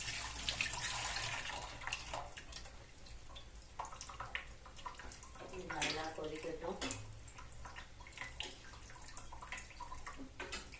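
Tamarind water is poured into a pan of thick gravy for a South Indian vathal kuzhambu, giving a steady watery splash and pour that continues throughout at fairly low level, with no talking.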